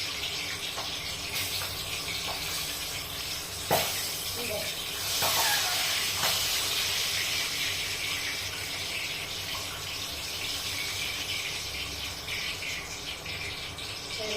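Green chillies fry in hot oil with a steady, dense sizzle and hiss, close to the mic, with a few sharp spits and crackles flaring up partway through.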